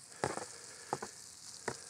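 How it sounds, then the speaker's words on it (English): Onions and peppers added to browned food in a skillet at a camp cooking setup, giving a soft steady sizzle broken by three short clattering bursts as ingredients drop in, fairly quiet and with no talking. "I'm just gonna go ahead and grab my onions here and add them in"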